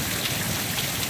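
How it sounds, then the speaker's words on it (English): Steady heavy rain pouring down during a thunderstorm in DeKalb, Illinois, forming a dense, continuous hiss that fills the whole moment with no breaks and no voices. "Look at this rain."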